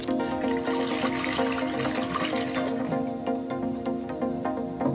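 One litre of RO water pouring steadily into a container while making soap oil, a continuous close splashing rush that holds for the whole stretch with no talking.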